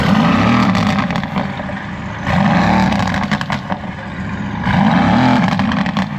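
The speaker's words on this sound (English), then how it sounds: "I'm waiting to hear this exhaust." A Mercedes-AMG Black Series engine revving in repeated deep surges at a cars and coffee meet, its exhaust rising and falling loudly for several seconds with no speech.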